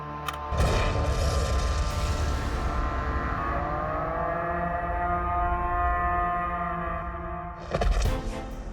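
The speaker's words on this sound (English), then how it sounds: "you'll see what kind of explosion we can expect from this" A large fuel-fed explosion goes off with a sudden heavy boom and a fireball, then a long roaring, ringing decay that fades slowly before a second loud burst near the end.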